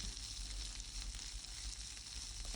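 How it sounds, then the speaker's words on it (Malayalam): Drumstick leaves with small onions, chillies and garlic sautéing in a pan, giving a steady, close, fairly quiet sizzle with soft crackle throughout and no talking. "കഴുകി വാരി വെച്ചിരിക്കുന്ന മുരിങ്ങയില കൂടി ഇട്ട് കൊടുത്ത് ഒന്ന് വഴറ്റിയെടുക്കുക"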